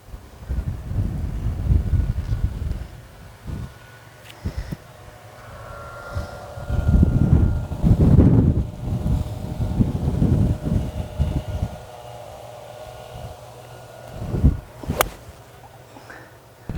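Wind buffets the microphone on a golf course at a seaside resort, a low, rumbling roar that comes in gusts and swells and fades across the stretch, with a brief sharp click near the end.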